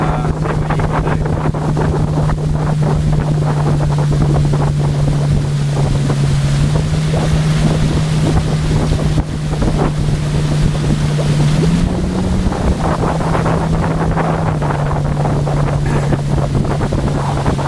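An outboard-driven fishing boat cruises slowly on Lake Monduran, its motor holding a steady low hum with slight pitch shifts, heavy wind buffeting the microphone throughout.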